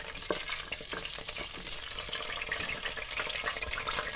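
Whole dried red chilies frying in hot oil for masoor dal, a soft continuous sizzle with light crackles and the occasional clink of a utensil, fairly quiet and alone.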